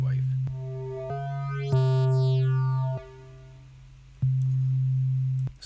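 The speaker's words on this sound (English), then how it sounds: "Back to a sine wave." A synthesizer built in the Protoplug plugin with a wave-folding oscillator plays a steady low sine tone. Its timbre shifts in steps as bright harmonics fade in and out, with soft clicks at each change, settling back to a pure hum.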